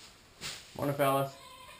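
A homestead goat lets out a single wavering bleat, close by and fairly clear, following a brief softer rustle or breath, with quiet ambience on either side.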